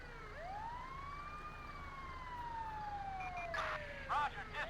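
Ambulance siren in LSPDFR, the police mod for GTA V, a smooth rising and falling wail passing close by, with brief louder electronic yelps near the end over faint traffic.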